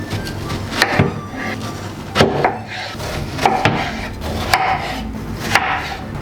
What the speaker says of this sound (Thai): เดี๋ยวผมจะหั่นเป็นชิ้นเล็กๆหน่อยนะครับ